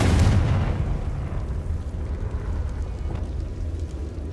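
In the game Hogwarts Legacy, the Confringo spell goes off as a loud, close explosion with a heavy low boom at the start that fades into a rumbling tail.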